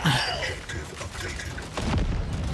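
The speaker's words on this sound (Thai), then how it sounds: "เอ้าระเบิด" An explosion in the video game Steel Hunters booms at the start and is followed by muffled rumbling and a second low burst near the end.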